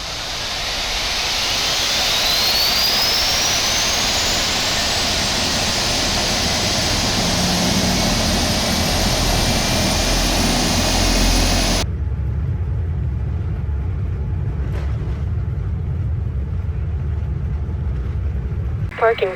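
Boeing 787-8 engines spooling up during a dual start in Microsoft Flight Simulator 2020, a loud, steady jet roar with a rising whine that builds for about twelve seconds before cutting to near silence.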